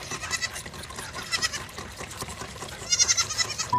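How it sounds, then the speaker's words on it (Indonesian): Goat bleats in a cartoonish animal-cleaning video game, several short cries over a busy bed of splashing water and game effects, with a brighter, louder call near the end. "Kambing."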